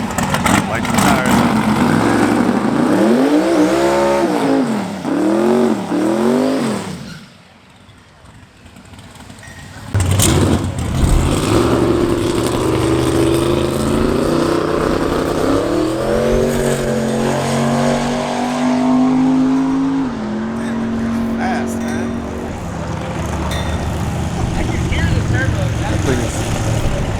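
A fast car accelerates hard around a private track, its engine climbing through rising and falling revs that repeat in a wavering pattern, then cuts out briefly before another long, loud run builds and fades away.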